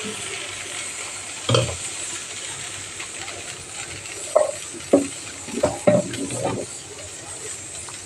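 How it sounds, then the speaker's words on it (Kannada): Dosa batter cooking on a hot pan gives a steady soft sizzle, broken by a few clinks and scrapes of a ladle or spatula against the pan. "ಇದೇ ಹಿಟ್ಟಲ್ಲೇ ಈಗ ದೋಸೆನೂ ಹಾಕ್ಕೊಳ್ತಾ ಇದ್ದೀನಿ"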